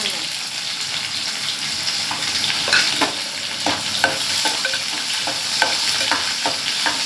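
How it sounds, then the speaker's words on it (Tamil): Onions sizzling and frying in a pan for okra tamarind curry, a continuous crackle with occasional stirring clatter, close and fairly loud. "வெங்காயம் நல்லா வதக்கணும்"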